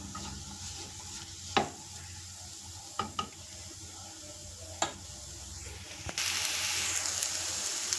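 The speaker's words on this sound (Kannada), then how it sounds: "ಅರಿಶಿಣದ ಪುಡಿ ಮತ್ತು ಧನಿಯಾ ಪುಡಿಯನ್ನು ಹಾಕಿ ಈರುಳ್ಳಿ ಜೊತೆ ನಾನೀಗ ಫ್ರೈ ಮಾಡ್ಕೊಳ್ತಾ ಇದ್ದೀನಿ" Onion fries in a pan with turmeric and coriander powder, a quiet sizzle broken by a few sharp spoon scrapes, then a sudden louder hiss surging up near the end.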